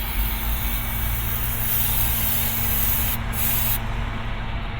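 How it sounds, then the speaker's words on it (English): Brake cleaner sprays from an aerosol can onto parts during an oil change on a 2019 Chevrolet Silverado 1500, a steady loud hiss lasting nearly five seconds with brief breaks near the end. "We're going to go in here with brake cleaner and not get in my face again."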